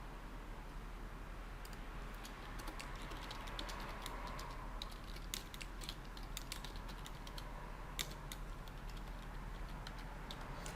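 Steady typing on a computer keyboard while writing a letter in Word, a soft run of quick keystroke clicks with occasional louder spacebar taps, continuous and close throughout.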